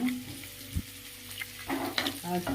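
Carrots and beans frying in a home kitchen pan, a close steady sizzle with a few stirring scrapes and knocks, plus brief clatter toward the end.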